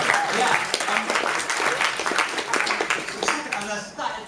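Comedy show audience clapping for Jim Rosenthal, a loose, uneven burst of claps with audible individual hand strikes and some murmuring voices mixed in, fading toward the end.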